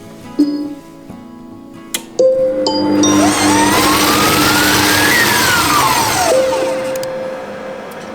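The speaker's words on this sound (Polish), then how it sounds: "I ponownie wszystko będziemy mieszać przez 10 sekund." After a few electronic beeps, a Monsieur Cuisine Smart food processor blends sorrel soup at speed 6 for about ten seconds, its motor whirring up loudly, holding and then winding down close by.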